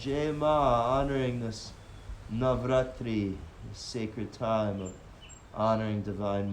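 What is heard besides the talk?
None of the usual background noises is heard.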